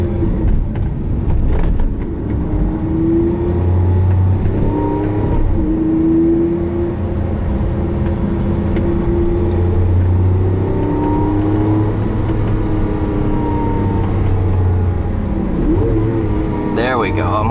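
A 2012 Lamborghini Aventador's engine revs up and falls back several times as it rev matches on downshifts, a loud, close rising drone under ongoing talk inside the car.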